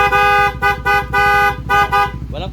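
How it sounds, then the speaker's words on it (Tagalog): A loud horn on a Honda Supra GTR 150 motorcycle blares close by in five or six short repeated blasts with brief gaps, ending with a faint electronic chirp. "Loud horn."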